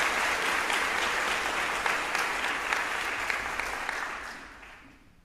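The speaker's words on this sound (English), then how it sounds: "I'm gonna do them one at a time so they can get their applause." An audience at a school foundation scholarship night gives warm applause for a recipient, steady at first and gradually fading away to near quiet by the end.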